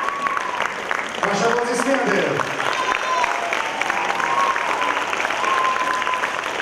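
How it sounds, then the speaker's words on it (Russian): Audience applauding after a duet performance of Ave Maria, sustained dense clapping from a hall full of listeners, steady and fairly loud throughout with scattered cheers, some voices mixed in. "Ваши аплодисменты!"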